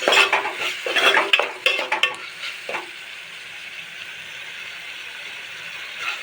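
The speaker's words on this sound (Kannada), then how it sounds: "ಇದನ್ನು ಈಗಲೇ ಹಾಕ್ಕೊಂಡು ಸ್ವಲ್ಪ ಫ್ರೈ ಮಾಡ್ಕೋಬೇಕು." Potato palya with coriander leaves frying in a pan while a utensil scrapes and stirs, busy clattering strokes at first that settle into a soft steady sizzle.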